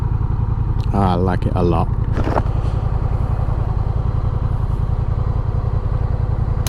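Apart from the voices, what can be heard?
Honda Rebel 1100 motorcycle engine on highway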